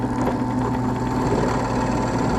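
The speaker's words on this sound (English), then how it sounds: "it's a drill press versus a handheld" A drill press bores a mortise in wood, giving a steady, loud motor hum with a low vibrating drone and no pauses.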